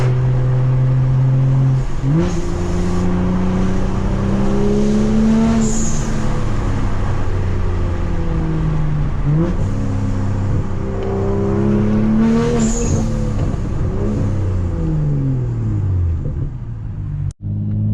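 A loud straight-piped BMW M235i engine revs hard several times, climbing in pitch then dropping with crackling exhaust pops, close and continuous with no talk.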